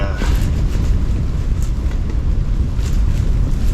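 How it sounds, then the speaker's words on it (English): Strong, steady wind roars and buffets the microphone outside a hub shelter on the ice while ice camping in extreme cold, a constant low rumble with gusty hiss on top and no voices. "It is really windy out there"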